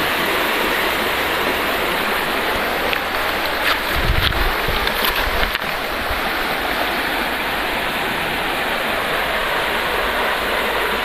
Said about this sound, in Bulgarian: Днеска сме на една река, която е с много смъкнато водно ниво